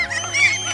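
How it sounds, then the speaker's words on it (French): Loud, close seagulls calling with harsh, honking cries on a deserted island, a dense noisy burst. "Punaise, elles sont bruyantes ces mouettes."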